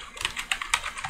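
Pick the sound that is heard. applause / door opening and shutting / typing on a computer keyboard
typing on a computer keyboard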